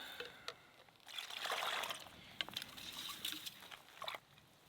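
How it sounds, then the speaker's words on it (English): Sediment-rich stream water is scooped into a filter container in the Australian bush, with soft trickling, gurgling and splashing amid small clicks and knocks, fairly quiet and close. "I'm scooping up a bit of sediment and algae with it."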